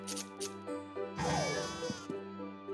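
A sheep in the Harvest Moon: Animal Parade video game bleats over synthetic game music, a few short calls close up.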